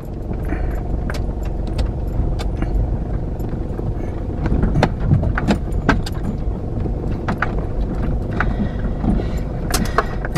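An old Toyota Land Cruiser crawls down a rugged high-country hunting track in crawler gear, its steady low engine drone continuous and close, overlaid with rattles, clunks and jangling from the cabin and load.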